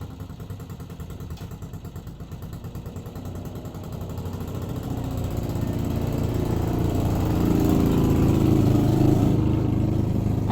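A motorcycle's engine runs with a fast, steady putter that grows gradually louder and deeper over several seconds, as if revving up or coming closer. It stays a continuous mechanical drone with no voices.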